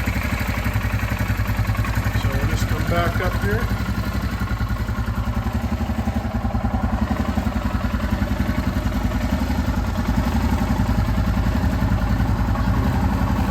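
A 2021 Royal Enfield Himalayan motorcycle idles close by with a steady, even, clattering thump that holds throughout, while someone speaks briefly over it.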